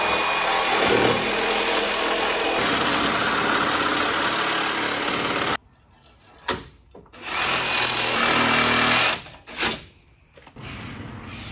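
Power saw cutting the lower control arm mounts on a Jeep Cherokee XJ, a loud steady whine that cuts off abruptly, then comes back in short bursts and a longer run with pauses between.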